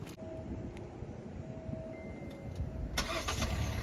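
Car engine starting by remote start, the motor cranking and catching as a low rumble that swells slightly toward the end, close by, with no voices.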